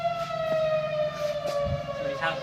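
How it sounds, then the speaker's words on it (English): A fire alarm siren wails steadily from down the street, sounding distant and moderately faint under a low background hum. "That's a fire alarm?"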